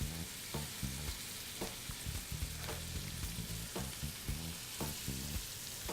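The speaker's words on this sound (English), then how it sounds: "We're gonna flip the scallops over." Scallops and mussels sizzling in a hot pan for seafood pasta, a dense continuous fry with scattered pops and occasional stirring or scraping clicks, close up.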